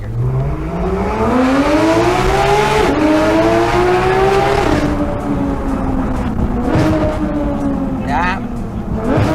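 A modified Porsche 991.2 GT3RS engine revs hard toward 9,000 RPM in first gear, climbing pitch, shifting and pulling again, loud and close inside the car while people talk.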